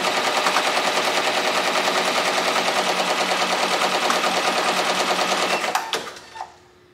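An embroidery machine running at a speed of 630 stitches rapidly in a loud, even, machine-gun-like chatter for several seconds, then slows with a few clunks and stops.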